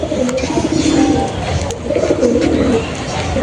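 Pigeons coo in low, rolling bursts that rise and fall, with a busy murmur of background noise and faint voices throughout.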